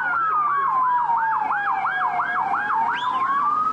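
Municipal police vehicles in a Şanlıurfa city parade sound loud, close wailing sirens, a rapid rising-and-falling yelp cycling steadily over a continuous lower tone, with no talk.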